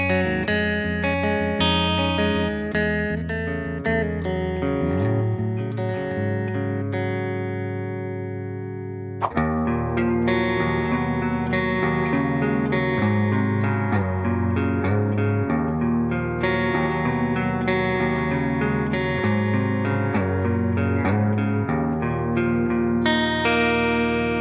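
PRS Mark Tremonti signature electric guitar played through clean tones with effects, sustained chords and melodic lines ringing steadily, a brief break near the middle before playing resumes, no voices.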